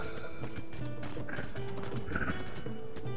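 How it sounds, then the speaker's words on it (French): Hooves of a skeleton horse in a fantasy adventure game clop in a steady rhythm, with eerie whinnies and game ambience layered over them, moderately loud and alone without voices. "Cet étrange cheval, c'est un cheval squelette, pas vrai?"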